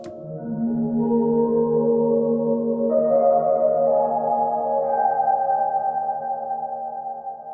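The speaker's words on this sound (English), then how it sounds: "drift for space is also going to add some pitch modulation to the reverb tail" A sustained synth tone from a Chroma Console washes into a long reverberant tail that wavers gently in pitch, shifting up in steps and slowly fading.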